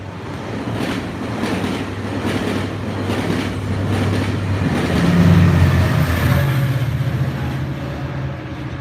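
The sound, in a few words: train passing by a tower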